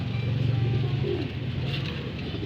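Racing pigeons at their home loft give low, throaty coos, repeated and close by, over a steady murmur of background noise.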